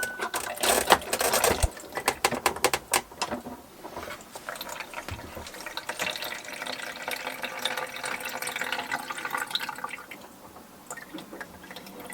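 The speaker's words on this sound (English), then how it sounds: "I just opened the tap there to drain down that cold water out of the tap itself." Water running from the tap on a boat to drain it, irregular spluttering gushes and drips from the faucet, louder at first, then a steadier trickle.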